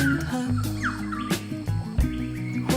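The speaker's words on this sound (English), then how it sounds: "Native birds sing out to each other from curving tree ferns and palms overhanging sandy orange beaches" Native birds call back and forth in subtropical island jungle of tree ferns and palms beside sandy beaches, loud nearby chirps and sliding whistled notes arriving in bursts.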